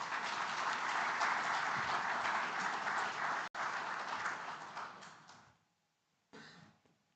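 Conference attendees at the Rwanda Future Skills Forum give a loud, dense round of applause that runs for about five seconds, dies away into near silence, then a brief burst of clapping returns.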